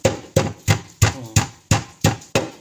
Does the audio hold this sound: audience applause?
no